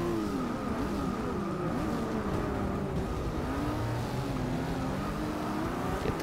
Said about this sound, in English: these cars sound amazing